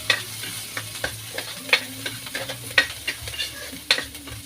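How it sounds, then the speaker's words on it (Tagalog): Garlic and onion sizzle in a smoking hot wok, a steady close frying hiss broken by repeated scraping stirs of the spatula. "Ito na ating kawali oh. Usok-usok na. Lagyan natin yung bawang sibuyas."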